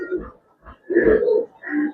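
Pigeons, Giribaz, Teddy and colored fancy breeds, coo in three soft, close bursts separated by brief pauses, the middle call longest and loudest.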